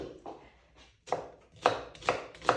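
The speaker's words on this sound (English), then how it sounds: "So just following those natural curvature lines of the onion to get this nice julienne cut." A knife julienne-cuts an onion on a board with a handful of crisp, separate chopping strokes, each a short, close, fairly quiet knock at an uneven but quickening pace.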